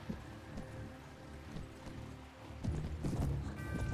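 Cavalry horses gallop in a fantasy battle video game, with a steady, dense drumming of hooves that grows louder and heavier toward the end; no voices are heard.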